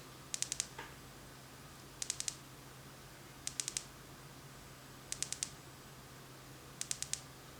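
A Noctigon M43 flashlight button is clicked in quick bursts of three or four sharp close clicks, repeated five times at even intervals against a quiet background.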